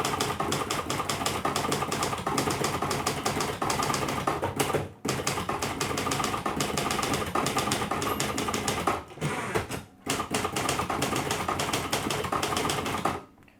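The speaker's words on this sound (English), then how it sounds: "just continue typing starting from the left margin, reaching the right margin when you hear the bell" Typing on a Royal 200 / Royal Mercury manual typewriter, a rapid steady clatter of key strikes with brief pauses around carriage returns, close and alone.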